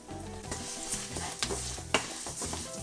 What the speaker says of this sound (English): I'm gonna fry my rice up.